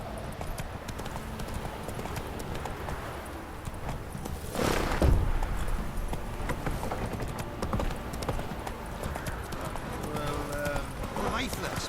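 Roach the horse in The Witcher 3 moving off at pace, a steady run of hoofbeats with a louder thump midway, under continuous talk.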